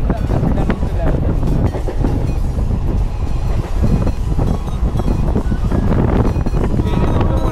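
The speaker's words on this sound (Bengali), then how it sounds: "ট্রেনে ঢুকে পড়লাম, এবার চুচু স্টেশনে নামতে হবে।" A rented passenger train runs with a loud, constant rumble and rattling heard from on board, mixed with heavy wind buffeting the microphone.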